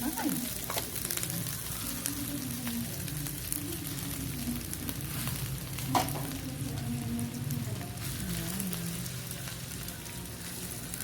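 Corned beef fries in a pan with a continuous crackling sizzle, like light rain. One spatula knock and a few faint stirs break it occasionally, all close and even in level.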